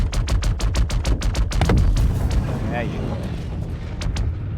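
In Star Citizen, a rapid string of sharp gunshots tears into a buggy, followed by a rumbling blast and lingering crackle. Someone speaks briefly over the tail end.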